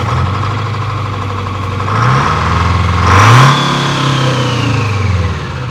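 A Ford F450 dually truck engine, close and loud, idling with a low steady rumble and rising into two revs, the second sharper, before settling back to idle.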